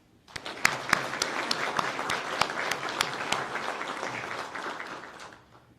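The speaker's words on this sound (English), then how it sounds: "And please give them a round of applause for their hard work as well." Audience applause at the NNLEA Class of 2020-1 law enforcement academy graduation, a steady, dense round of clapping that swells quickly, holds for about five seconds with a few sharper claps standing out, then tapers off.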